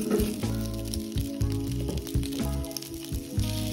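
Sausage sizzling and frying in hot cooking oil for a shrimp and pork jambalaya, a steady loud crackle with uneven low pulses throughout and no one talking.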